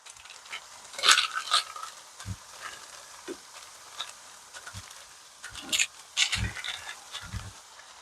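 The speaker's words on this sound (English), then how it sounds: "we're going to fry those off to get the crispiness" Plantain slices fry in oil in a home kitchen, a soft intermittent sizzle and crackle with bursts of spatter and a few low utensil knocks and clatters, close and fairly quiet with no talk.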